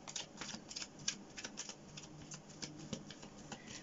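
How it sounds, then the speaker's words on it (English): Tarot cards being shuffled by hand during a pick-a-card reading, a steady run of quiet, crisp card riffles and slaps that tick along without pause and without any talk. "while we're shuffling the cards here"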